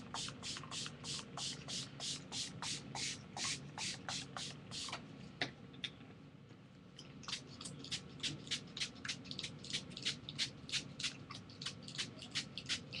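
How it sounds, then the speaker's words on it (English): A hand-pump spray bottle mists water onto mixed media album pages in a long run of quick, sharp hissing bursts. The sprays come in a rapid, even rhythm, pause briefly, then start again close and clear. "I need a regular spray bottle"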